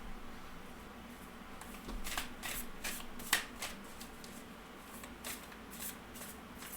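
Oracle cards are shuffled by hand in a series of soft riffling and slapping bursts, close and fairly quiet, with one sharper snap near the middle and no talking.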